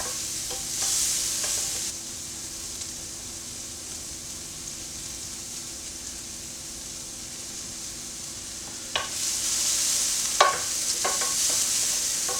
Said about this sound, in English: we just want it to just soften that onion a little bit